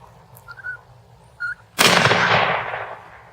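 A single loud rifle shot from a 117-year-old .30-40 Krag rifle, close by, with a sharp crack that trails off into a long outdoor echo after a few faint, quiet moments.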